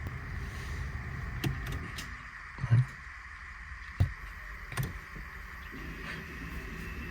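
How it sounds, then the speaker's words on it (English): Electronic parking brake of a red Mazda CX5 engaging, a faint motor whir with a few soft mechanical clunks, heard inside the car over a low steady hum, no speech. "And now you can hear the electronic parking brake working."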